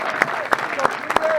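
An audience applauds junior golfers at a First Tee Legends & Leaders Q&A event, with a short burst of scattered clapping under a speaking voice.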